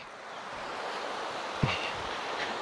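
River water flowing at a campground reserve, a steady soft broadband rush with one brief knock partway, faint and even, no talk.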